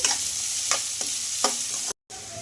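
Chopped onions salted in a pan while frying, a constant hiss of sizzling oil close by with four soft rhythmic stirring scrapes, then a sudden brief dropout to silence before the sizzle resumes.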